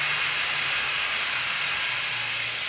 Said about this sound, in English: I got the compressor letting the air out of it.